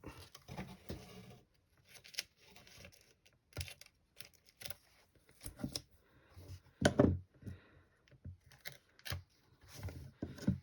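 Scissors cutting slits around the bottom of a mould, soft irregular snips and rustles close by and fairly quiet.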